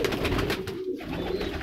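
A teddy pigeon coos in soft, low, repeated murmurs nearby, set against a steady background hum, with a brief dip partway through.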